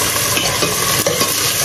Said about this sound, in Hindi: पहले मैं इसमें डालूँगी अदरक लहसुन का पेस्ट। और साथ में डालूंगी इसके चिकन